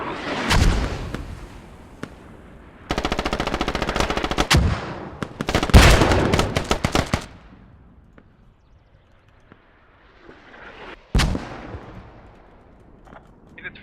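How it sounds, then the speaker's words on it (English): Bursts of heavy automatic gunfire and sharp explosive thuds from mortar strikes ring out in a tactical shooter match on the Logar map, in loud clusters separated by quieter gaps. "Friendly mortars on South DC."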